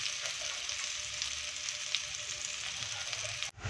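Garlic cubes and onion sautéing in a pan, a steady bright sizzle of frying at moderate volume, ending with a brief clatter.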